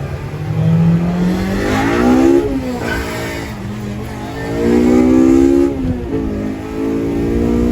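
Honda Civic DX with a swapped K20Z3 engine and manual conversion pulls hard in first gear with the tires spinning. The engine note climbs loud and close through two rising revving surges.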